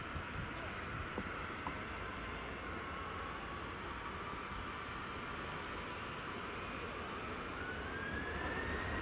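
A Ryanair jet departs Edinburgh Airport on runway 24 in the evening, heard as a distant, faint, steady rumble with a slowly rising whine, broad and continuous throughout.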